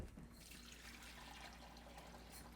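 Water runs steadily from a kitchen sink tap, a faint, even hiss and trickle that continues without a break and without any talking.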